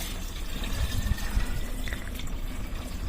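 A mixed garden pest-control liquid being poured into a spray bottle, a steady low gurgling trickle with a few heavier splashes early on, close by and without speech.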